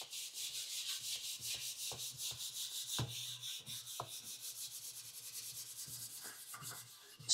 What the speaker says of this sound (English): you can either use a Brillo pad the same way or use a towel. And then from there, we can just kind of move that cleaner along our boiler